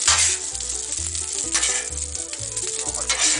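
A pork loin browns in butter on a Blackstone griddle, giving a loud, steady, close sizzle that carries through the whole stretch. A faint rhythmic low thumping sits underneath, and no one speaks.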